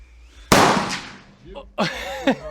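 A single .308 calibre rifle shot cracks out loud and close with a decaying roar, followed by voices talking and a laugh.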